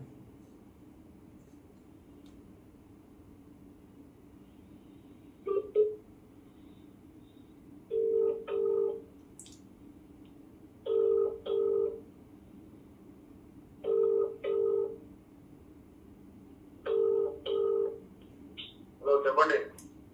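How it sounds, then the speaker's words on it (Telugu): Ringback tone of an outgoing phone call that goes unanswered: a steady double ring repeats about every three seconds, five cycles over faint background hiss, with a brief higher blip near the end. "సో ఫోన్ కాల్ రెస్పాండ్ కావడం లేదు"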